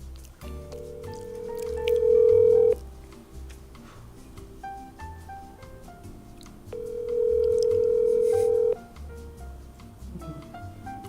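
A telephone call is dialed with a short run of tones, then rings out in two long, steady tones separated by a pause, heard clearly and fairly quietly with no talking.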